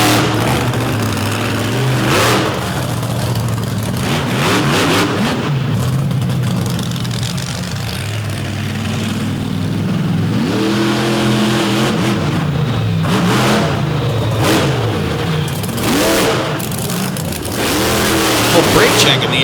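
Big bullnose Ford monster truck engine revving hard through a run at a monster truck event, loud and continuous with rising and falling throttle surges, announcer commentary running over it.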